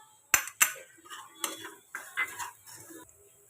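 Spoon clinking against a pan while stirring turmeric, coriander-cumin powder and salt into fried ground chilies for vada pav filling: two sharp metallic knocks, then several softer scraping clatters, close and fairly quiet.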